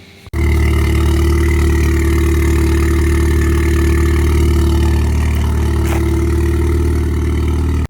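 A Ford Fiesta ST 1.6 litre engine with an aftermarket exhaust idles steadily after starting up, a deep, even rumble with a throaty exhaust note that holds constant throughout.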